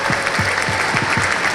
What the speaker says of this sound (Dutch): Dames en heren, geef ze een ontzettend applaus.